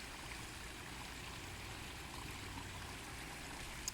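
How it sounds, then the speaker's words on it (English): A small backyard garden waterfall trickles over rocks, a soft, steady wash of running water heard alone at low volume. "The waterfall is nicer looking now."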